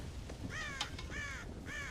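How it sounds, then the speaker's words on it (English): Crows cawing in Red Dead Redemption, three rough, drawn-out calls spaced evenly at moderate distance over quiet background ambience, with no talking. "God damn crows!"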